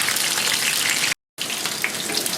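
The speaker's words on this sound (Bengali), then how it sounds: "দেখুন আমার মাশরুমটা কি সুন্দর ভাজা হচ্ছে" Lightly battered mushrooms fry in hot oil, a dense, steady rushing hiss heard up close, broken by a brief moment of silence midway, with no voices.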